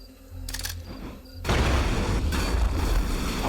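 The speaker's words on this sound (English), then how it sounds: "I'm thinking we just hit him with a bunch of grenades." Grenades exploding in the sci-fi strategy game Age of Wonders: Planetfall, a rumbling burst of booms and crackling blasts that swells after a brief mechanical whir, loud and dense with no talking.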